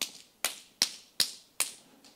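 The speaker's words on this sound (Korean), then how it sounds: "오른손을 들어서 왼쪽 손등을 5번 치겠습니다. 시작." Five sharp slaps of a hand striking the back of the other hand, made in unison by a church lecture audience, landing at an even, steady beat, crisp and moderately loud with no talk.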